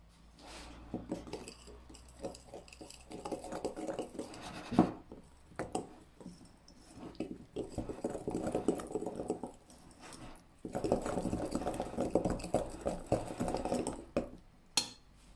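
A spoon or whisk works flour into thick yogurt cake batter in a bowl, producing close, soft scraping and clinking strokes in two longer bursts separated by quieter pauses, with no voice.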